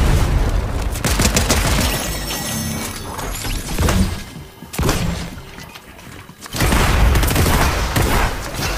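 Dense bursts of gunfire and explosive booms from Fortnite combat, loud and near, with brief lulls between volleys and a combat shotgun among the weapons; no talk during it.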